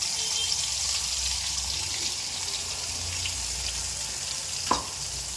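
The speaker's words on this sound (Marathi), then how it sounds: "तेल आता चांगलं तापलेलं आहे. आता मी मसाला टाकता येतो." Ground masala paste hisses and sizzles steadily in hot oil for mutton masala, a continuous bright frying crackle with one brief clink near the end.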